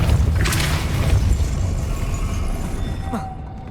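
Depulso, a spell in Hogwarts Legacy, goes off as a rumbling, boomy blast under a dense layer of game ambience, holding steady and then fading toward the end.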